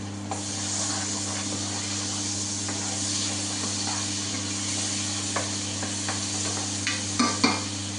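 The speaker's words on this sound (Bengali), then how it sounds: "আমার তেল গরম হয়ে গেছে। এখন আমি এর মধ্যে আমি পেঁয়াজটা ঢেলে দিলাম।" Chopped onion and salt hit hot oil in a pan for a vegetable curry, sending up a loud, continuous sizzle with repeated stirring scrapes and a couple of sharper knocks near the end.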